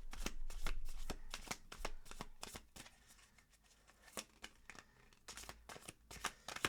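A Dark Crystal tarot deck being shuffled by hand, a quiet, close series of crisp riffling card snaps in quick irregular bursts with a brief lull midway.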